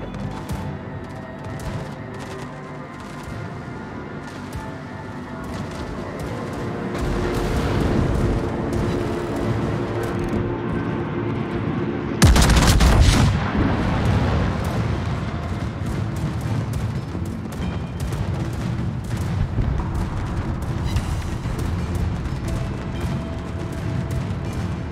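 Heavy artillery from the battleship Nagato in a naval video game booms out, a steady rumbling barrage swelling midway with one sharp, loud salvo, over continuous battle noise.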